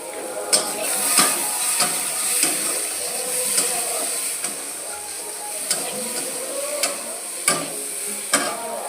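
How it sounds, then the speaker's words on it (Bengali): Spices with turmeric and salt stir-fry in a pan for a vegetarian dish: a steady close sizzle, broken by regular scrapes and clinks of a spatula against the metal. "হলুদ দেব, লবণ দেব, দিয়ে এটাকে ভালোভাবে কষিয়ে নেব।"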